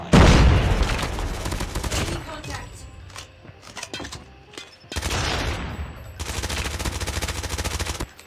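Rapid bursts of automatic gunfire from an ICR rifle in a mobile shooter game, loud and dense in two long stretches with a quieter gap of scattered shots between.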